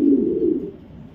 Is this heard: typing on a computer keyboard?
no